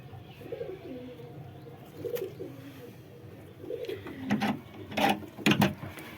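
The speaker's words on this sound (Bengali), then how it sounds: "এই যে আমার কবুতর" Pigeons in a coop give soft, low, rolling coos that build toward the end, close by, with scattered rustles and clicks of movement and no talk.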